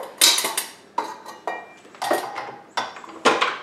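Ingredients dumped into a KitchenAid mixer bowl for jalapeno bagels: a series of close clanks, scrapes and knocks against the metal bowl, about eight irregular hits, no talking.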